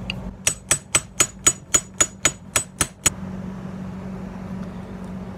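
Metal hammer blows strike a wedge, working an electric motor loose from a vintage motorized bumper car: about eleven sharp, evenly spaced clangs over three seconds, close and loud, followed by quiet room tone.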